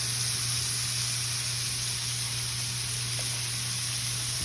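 Onions fry in bacon fat with a constant dense hiss, a broad steady sizzle that holds at an even level throughout without breaks, accompanied by a faint low hum.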